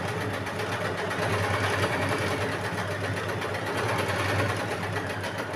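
A sewing machine stitches blouse fabric for a sweetheart-neck blouse, giving a steady, close, continuous whirring hum that holds even for several seconds with no talk over it.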